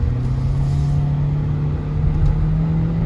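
A 2022 compact sedan, either a Hyundai Elantra or a Nissan Sentra, in regular drive mode, accelerating with a steady low engine drone and road rumble, heard from inside the cabin, loud and continuous with no talking.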